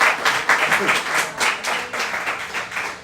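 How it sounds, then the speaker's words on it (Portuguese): A church congregation claps in uneven, pulsing bursts that swell and ease over three seconds, with voices heard along with the clapping. "Dê uma salva de palmas a esse Deus"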